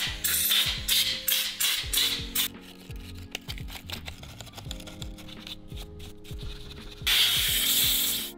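Stiff wire brush scrubbing a central locking connector on a VW T5 van, close and loud, in repeated quick back-and-forth strokes with short pauses between bursts.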